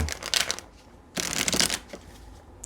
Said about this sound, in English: I was shuffling this tarot deck